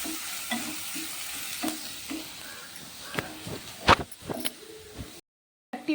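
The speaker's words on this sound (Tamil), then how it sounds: "கட் பண்ணி வச்சுருக்க பெரிய வெங்காயத்தையும் சேர்த்துக்கிறோங்க. நல்லா வதக்கிக்கலாம்." Chopped big onions sautéing in oil with spices for a chicken gravy produce a soft, steady sizzle, punctuated by repeated spoon scrapes and a louder clatter near the end before a brief cut to silence.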